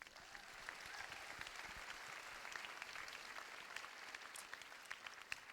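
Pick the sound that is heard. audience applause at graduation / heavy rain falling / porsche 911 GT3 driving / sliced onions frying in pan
audience applause at graduation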